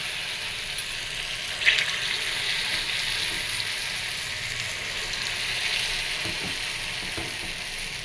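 Poornam boorelu, sweet lentil-filled dumplings, fry in hot oil with a steady, even sizzle and a brief clink of a utensil near the start.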